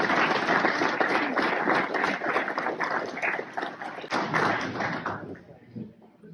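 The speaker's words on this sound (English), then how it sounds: "So please give all the spouses and significant others a round of applause." Audience applause follows a speech honoring spouses and significant others, a dense burst of many hands clapping that is fairly loud and close, then thins out and fades over the last second.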